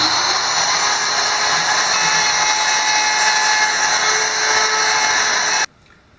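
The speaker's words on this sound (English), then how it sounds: "we can go ahead and use the router to route out the rectangular recess" A power router cuts a rectangular recess into a wooden cabin floor, a loud steady high-pitched whine with a constant cutting roar that runs unbroken before stopping abruptly near the end.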